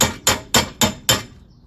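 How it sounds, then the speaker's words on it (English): Hammer strikes driving a front wheel bearing into place on a 2008 Cadillac SRX: five sharp metallic blows in an even rhythm, close and loud, each ringing briefly before fading. "I'm gonna go ahead and hammer it back on in there a little bit"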